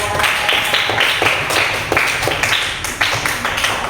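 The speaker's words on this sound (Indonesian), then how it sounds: "Tepuk tangan untuk kelas 5 yang hebat." A fifth-grade class claps hands together in a sustained burst of fairly loud, rhythmic applause lasting several seconds, with no talking.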